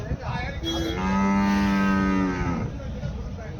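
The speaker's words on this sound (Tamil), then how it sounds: "இங்கே ஒரு கண்ணெருமை இருக்குது." A buffalo at a livestock market gives one long, loud, nearby low over steady crowd and market background noise.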